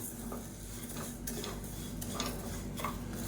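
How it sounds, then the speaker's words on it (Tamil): Karunguruvai rice dry-roasting in a pan, a quiet continuous rustle with faint scattered clicks and scrapes of stirring, close and without talk. "இப்போ இதை வந்து நம்ம கொஞ்சம் கொஞ்சமாக சேர்த்து வறுத்து எடுத்துக்கலாம்"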